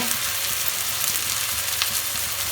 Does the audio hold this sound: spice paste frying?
yes